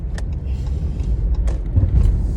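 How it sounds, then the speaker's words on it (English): A car drives along a road with a low, steady engine and road rumble close inside the cabin, broken by a few faint clicks and rattles. "Ricky, when you stop this car, Ricky"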